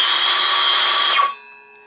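A DeWalt DCS391B 6 1/2-inch cordless circular saw with a brushed motor whines loudly at full speed, then its electric brake cuts it off abruptly, leaving a faint fading hum.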